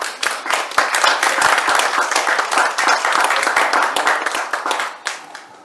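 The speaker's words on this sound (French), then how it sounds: "je vous remercie de l'applaudir" Audience applause at the Apple II Festival 2017 during a presentation of the game La Crapule: a full, continuous burst of many hands clapping, loud and close, tapering off at the end with little talk.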